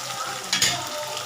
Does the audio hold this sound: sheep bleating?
no